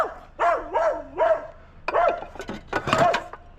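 A dog met during a scrap-metal pickup lets out a quick series of about six sharp, close barks, grouped in two bursts with a brief pause between them.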